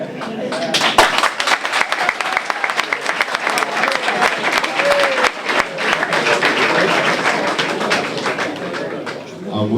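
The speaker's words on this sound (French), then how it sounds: "Alors vous applaudissez vous-même parce que cette question, c'est celle de tout le monde." A conference audience applauds itself, with loud, sustained clapping from a crowd that builds quickly and holds steady, while voices murmur underneath.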